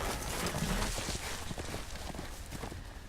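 Horse hooves clopping in a Game of Thrones video game, a muffled steady run of clip-clop beats under a dense, noisy game soundtrack.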